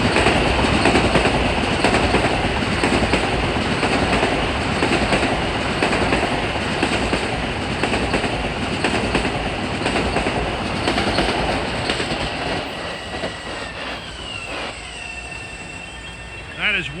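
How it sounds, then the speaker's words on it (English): A Metro-North train of twelve M7 cars rolls past on the Harlem Line on an evening, a loud, steady rumble and wheel clatter filling the whole stretch before easing off, with faint squealing tones near the end. "Train 557 goes nonstop from Grand Central to Scarsdale, then Hartsdale, White Plains North"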